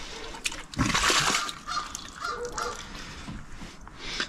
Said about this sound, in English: You swish it around a little bit.